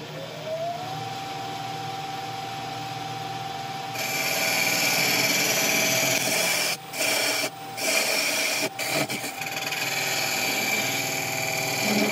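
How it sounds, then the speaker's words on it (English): A wood lathe turns a tenon on the end of a yew blank, the motor hum rising as it spins up, then a louder scraping cut with several brief pauses as the tool comes off and goes back on the wood. "I'm going to turn a tenon on this end"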